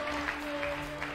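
A studio audience on a Turkish TV matchmaking show applauds as a screen is opened, a steady wash of clapping under sustained musical tones.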